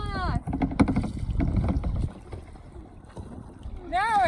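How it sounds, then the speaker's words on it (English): Paddles dip and pull through river water on the Connecticut River as a kayak moves along, heard as close sloshing strokes mixed with wind noise, with people talking and calling out over it. "Keep paddling, keep paddling."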